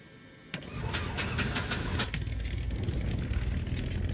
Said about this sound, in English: Successful engine start number 1.